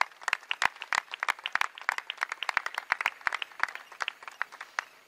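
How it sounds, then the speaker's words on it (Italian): A small crowd in an Italian town square claps for a group of young people at a municipal council event. The claps are sparse and distinct, with irregular sharp slaps close by and a few people clapping at once. "Un applauso da parte nostra a questi ragazzi."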